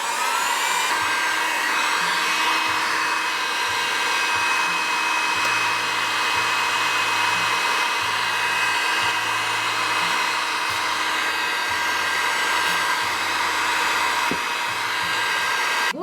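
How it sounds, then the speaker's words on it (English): A Kotek heat gun blows a steady, loud, close whooshing roar without pause, heat-setting acrylic paint and gesso on a mixed media page. "now I'm going to start dry setting or heat setting it with this Kotek"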